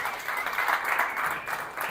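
A church congregation claps together during a service, a warm, steady round of applause that swells and fades slightly over two seconds, somewhat distant and not loud, with no one speaking.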